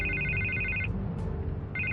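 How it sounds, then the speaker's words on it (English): An electronic telephone rings in the Batman Telltale video game, two bursts of a bright warbling trill separated by a pause, loud and close over a low steady background hum. "I can't get the phone to stop ringing."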